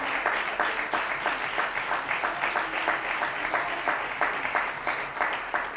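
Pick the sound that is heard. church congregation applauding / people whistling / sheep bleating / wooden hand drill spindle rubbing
church congregation applauding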